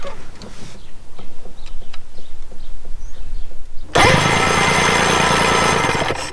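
A 1973 Johnson 65hp outboard motor, at first a low, uneven idle with rhythmic knocking, then abruptly roaring into a loud, steady, high-revving run for the final seconds.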